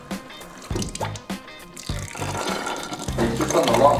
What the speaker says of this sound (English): We're just letting the last contents of them dribble out, and then we'll remove them from the car.